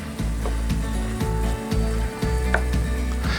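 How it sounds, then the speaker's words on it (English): Ground beef browns in a hot pan with a steady, even sizzle and occasional soft clicks of stirring, close and continuous, with no talking. "what we're after here is just cooking all of that ground beef just until it's browned"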